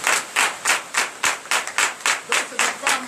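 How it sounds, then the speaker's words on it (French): A church congregation at a morning prayer service in Benin claps in unison, a steady rhythmic beat of about twelve sharp hand-claps at an even tempo, loud and close, with no talking over it. "Donnez l'acclamation à notre Seigneur."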